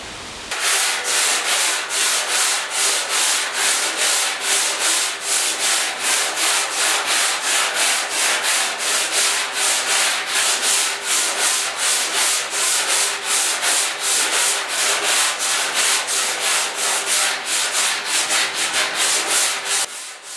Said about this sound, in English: I am just finishing off the glazed putty with 80 grit.